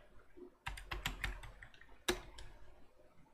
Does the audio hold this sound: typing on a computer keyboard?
yes